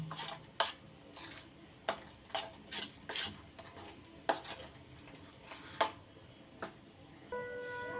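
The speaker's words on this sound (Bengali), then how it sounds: "সবজিটা দিয়েও ভালো করে আবার মিশিয়ে নিতে হবে" Chickpea batter is being mixed with vegetables in a bowl, with soft, irregular scraping and knocking of a spoon against the bowl, quiet and close, and no one speaking.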